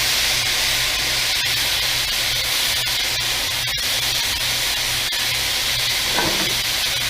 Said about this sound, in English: I'm gonna add in my wine. Let the alcohol cook off.